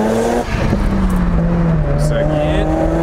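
A Mazda FD RX-7 rotary engine revs up hard in first gear, its rising whine climbing steadily and loud close by, with a voice speaking partway through.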